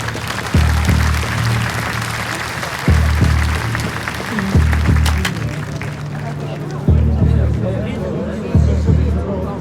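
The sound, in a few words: audience applause for the fighters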